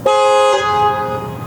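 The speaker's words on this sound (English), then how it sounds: "Strong horn." A single strong, bright toot from the horn of a modified Ruf Porsche 911, loud and close, held for about a second before it fades away.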